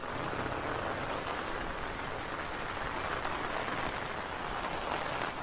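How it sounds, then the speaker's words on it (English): Steady rain pours down, a dense even hiss of drops falling on surfaces, continuous and moderately loud with no voices. "I love the sound of rain."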